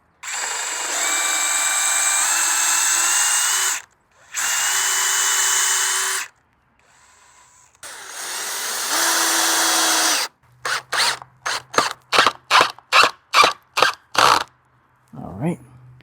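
Power drill running an adjustable depth countersink bit into wood, three long high whirring runs with pauses, then a rapid series of short pulsed bursts, close and loud with no talk.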